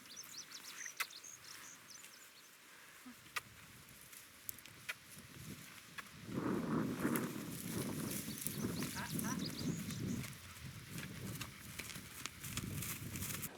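During a hoof-care session, a horse's hooves give sparse, irregular clip-clops on the ground amid outdoor ambience that swells midway.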